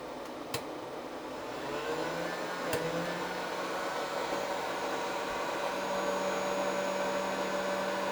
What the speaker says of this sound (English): it's going to get a little bit loud in here because I'm going to be turning on my heat gun here